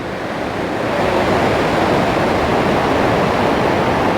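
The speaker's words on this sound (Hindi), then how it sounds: "और पानी का शोर आप सुन सकते हैं।" Steady, dense rush of water roaring continuously, like a river running close by, with no voices and no breaks in the flow, in a forest near Kalam in Swat, Pakistan.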